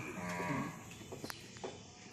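A cow gives a low, drawn-out moo at a moderate distance over a soft outdoor background with calves nearby, followed by a few faint scattered knocks.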